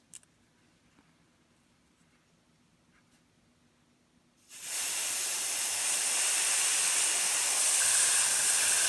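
Spray paint, grey in colour, hisses from an aerosol can over a template after a few seconds of near silence, then holds as a loud, close, continuous spray to the end.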